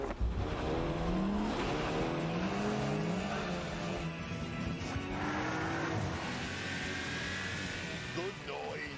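Cars in a straight-line drag race in the Valheim video game rev with rising and falling engine whines that sweep upward through repeated gear changes, loud and continuous, with a voice now and then over the engines.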